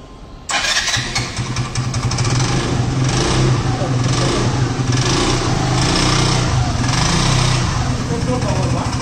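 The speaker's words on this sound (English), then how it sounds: "So Raj, now let us see the petrol engine status." A hybrid two-wheeler's petrol engine starts abruptly and runs at a steady idle with a buzzing, slightly uneven putter, loud and close throughout.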